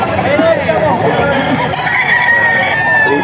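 A white gold gamecock crows at a busy poultry auction market in Bocaue, its call rising over a steady din of clucking birds and crowd chatter.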